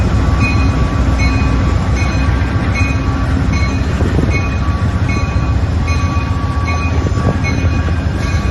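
Los Angeles Metrolink commuter rail cars rolling past in Chicago, a steady loud rumble of wheels on track with faint rhythmic clicks and a sustained metallic tone, close by throughout.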